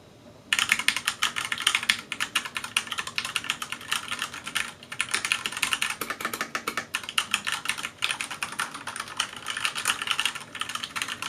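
Rapid, dense clicking and clacking of a mechanical keyboard being typed on steadily for several seconds, close up, with no voices.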